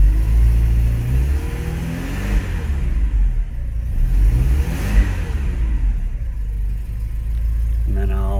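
1986 Porsche 944 Turbo engine cold starting and settling into a steady, low rumbling idle, close and continuous, with a brief rev early on.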